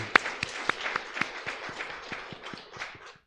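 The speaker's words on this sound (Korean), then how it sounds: "우리 하나님께 영광의 박수를 올려드리겠습니다." Scattered applause from a small congregation at a Sunday church service, with individual distinct claps in a loose rhythm, sparse and moderately close, tapering off at the end.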